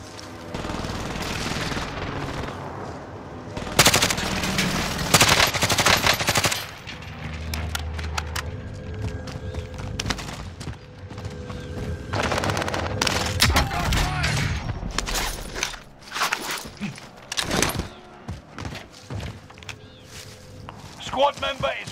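Call of Duty gunfire, dense bursts of automatic weapons and sharp single shots, some close and loud, others distant, spread throughout with game voices talking over parts of it.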